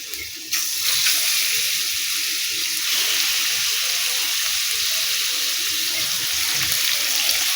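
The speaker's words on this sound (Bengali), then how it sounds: "মাছগুলো হালকা করে ভেজে নেব, বেশি কড়া করে ভাজবো না।" Prawns frying in lightly heated mustard oil in a wok, a steady close hiss and crackle that swells after a brief quieter opening and holds evenly throughout.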